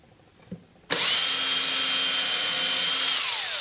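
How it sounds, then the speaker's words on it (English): A power drill whirs up abruptly and runs at a steady, loud, high whine, boring pilot holes into a wooden guitar kit after a brief tap. "I'm just going to drill a couple of pilot holes for the time being."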